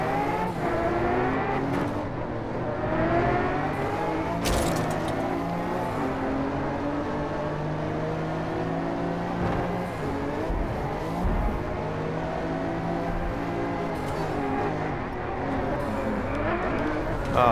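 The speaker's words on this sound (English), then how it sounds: "Oh, drifting" Car engine in the Driveclub VR racing game revving and sliding through a drift, with steady engine drone, shifting pitch and brief tire squeal. Loud and continuous for the whole stretch.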